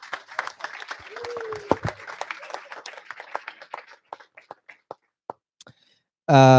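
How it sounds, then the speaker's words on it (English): A handful of people at an all-hands staff meeting clap in scattered, uneven bursts that grow sparser over several seconds. A voice speaks briefly near the start, and a loud burst of sound cuts in at the very end. "Come on, a big round of applause"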